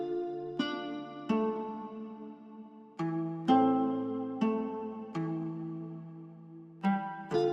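A quiet acoustic guitar pattern of plucked chord changes rings out under reverb, vinyl and saturation effects, with a low cut trimming the bass. The strums are spaced and sustain softly with no speech.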